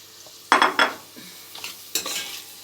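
Onions and garlic are stirred into frying mince in a pan for a spinach dish: a few quick scraping, sizzling bursts of the spoon, then quieter crackling between strokes, close and clear.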